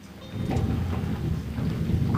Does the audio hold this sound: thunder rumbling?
yes